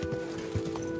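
Horse hooves clopping on the ground in Kingdom Come Deliverance 2 while riding, a few soft low thuds over steady ambient game sound.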